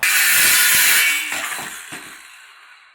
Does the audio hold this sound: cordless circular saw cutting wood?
yes